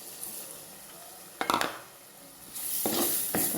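Chopped tomatoes sautéing in oil in a pan for a Kerala-style fish curry, with soft sizzling, a clatter of a spoon against the pan, and stirring scrapes close up.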